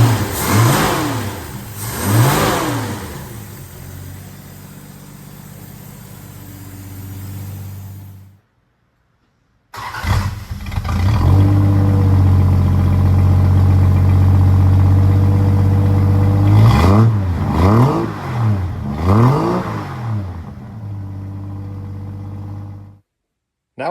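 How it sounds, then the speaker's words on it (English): A Mopar Slant 6 cruiser engine with a TTI exhaust revs repeatedly, loud and close, rising and falling through several throttle blips, cutting out briefly before firing back up for more revving. "fire this thing up for the first time I'm ever starting it"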